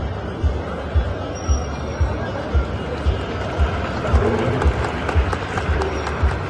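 At a Honamlı goat and Merino ram beauty contest, an outdoor crowd claps for the third-place goat's owner in a rhythmic, evenly spaced beat, with chatter and babble mixed in.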